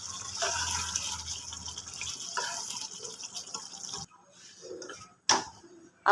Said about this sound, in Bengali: আলুর মধ্যে পানি দিয়ে দিয়েছি